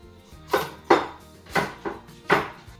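A knife chopping through a quarter of a pumpkin on a board, five separate close, firm thuds spaced about half a second apart, with nothing else heard between them.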